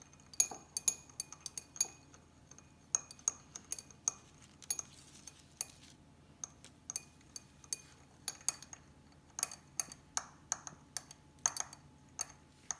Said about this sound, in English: glass rod, I am going to stir it.